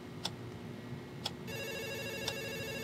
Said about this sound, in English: Oh, the phone is ringing.